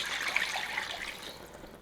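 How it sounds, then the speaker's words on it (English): Water poured into a soup pot for French onion soup, a steady, close trickling stream that fades slightly toward the end. "Add 2 cups of water."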